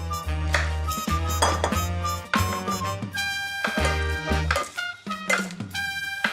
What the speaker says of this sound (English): If you want to grab the spoon and stir that as we go